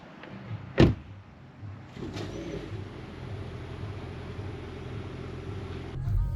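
A hybrid car's gasoline engine cold-starts at minus eight degrees in winter: a sharp click first, then the engine catches and settles into a steady, fairly quiet running hum.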